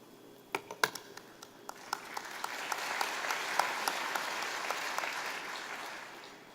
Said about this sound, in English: You're not required to clap each time.